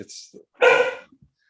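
A single close, loud dog bark cuts in between bits of indoor conversation.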